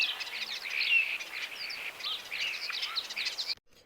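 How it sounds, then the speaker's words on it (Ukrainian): Starlings sing in a busy, continuous stream of chirps, whistles and twitters, fairly faint and distant, until it cuts off abruptly near the end. "А шпаки уміють співати чи ні? Так, вони співають і дуже гарно."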